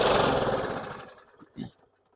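A 2022 Troy-Bilt TB110 lawn mower engine fires after a pull cord: a loud, close, rough roar that fades out within about a second and a half, then a short final sputter before silence.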